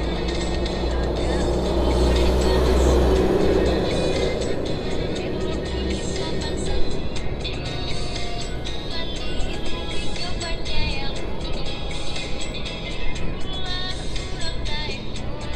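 Road traffic with a truck carrying sand: a loud engine rumble swells early, then steady vehicle noise and passing cars continue with a few knocks, with some talk nearby.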